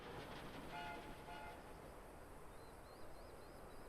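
A runaway train in the video game Final Fantasy XIV rumbles steadily and loudly throughout, with a couple of brief horn-like tones early on and faint high whistling near the end; no one speaks.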